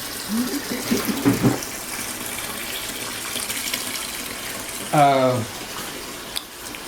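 Water runs from a tap into a sink over fodder seeds for horses, a steady close hiss of flow with a brief louder gush and gurgle partway through.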